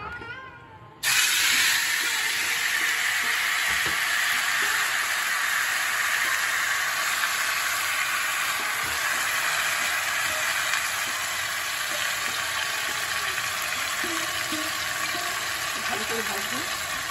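Spices hit hot oil with a sudden loud hiss that stays strong and steady for many seconds, close by, while a voice talks faintly underneath.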